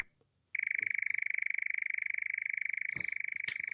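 A steady, rapid mechanical churring trill of a nightjar, continuous and fairly loud against a quiet, noise-reduced background, with a couple of brief noisy bursts near the end.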